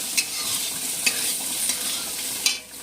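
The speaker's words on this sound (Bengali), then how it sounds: "এখানে ভাজাটা প্রায় হয়ে গেছে" Food frying in a pan with steady bright sizzling and a few sharp scraping strokes of stirring, close and continuous with no talk.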